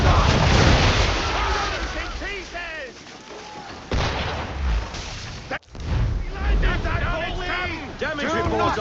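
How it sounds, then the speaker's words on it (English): A ship's cannons fire a broadside in a naval battle, heavy booms rolling out over several seconds with a sharp cut near the middle, loud and close under shouted voices and wind. "Fire broadside!"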